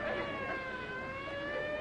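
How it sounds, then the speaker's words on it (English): Police sirens wailing in a sustained, steady tone at moderate distance, loud and unbroken, with no talking. "Them sirens! Somebody's calling the law."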